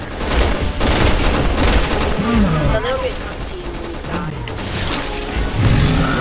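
Heavy, continuous gunfire aimed at a monster in Resident Evil 6, with loud rapid shots and crashing impacts, while a voice talks over the din.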